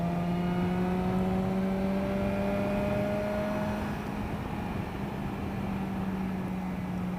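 A car overtakes another vehicle on a road in New Zealand's South Island, heard from inside as a steady engine drone with a rising tone that slowly climbs in pitch and then settles, with no voices.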